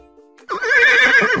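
A horse's whinny from a kids' balloon pop educational game, a sudden loud, shrill neigh that bursts in after brief quiet music and carries on to the end.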